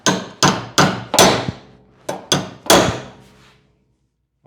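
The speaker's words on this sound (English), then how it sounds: "I might need a bigger hammer." A hammer strikes the steel door bottom of a 1962 Series 60 Cadillac Fleetwood, with seven loud ringing metallic blows in two rhythmic groups. Each hit has a short decaying ring, close up and with no talk.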